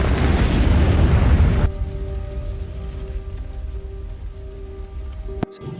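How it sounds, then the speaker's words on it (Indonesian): Landmine explosion in a war film after a live mine is thrown onto a car: a loud, dense blast roaring for under two seconds, then a lingering rumble with a steady tonal hum and a brief sharp pop near the end, no voices. "bom meledak diakibatkan salah satu dari mereka melempar ranjau yang masih aktif ke atas mobil, sehingga terjadilah ledakan yang luar biasa"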